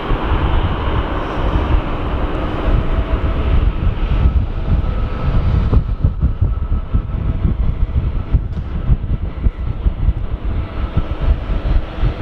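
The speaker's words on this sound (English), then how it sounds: "Qantas 737 taxiing out" A Qantas Boeing 737 taxiing at Sydney Airport gives a continuous broad jet engine roar, mixed with wind buffeting, steady and moderately loud.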